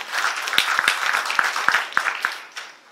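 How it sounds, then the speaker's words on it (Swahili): A church-style gathering at KMTC Port Reitz breaks into audience applause: many hands clapping together with a few sharp, distinct claps standing out. The clapping swells and then trails off toward the end. "Pigia Bwana Yesu makofi."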